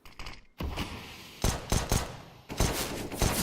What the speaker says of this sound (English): Working his P250. Gets a couple bullets in towards Twist.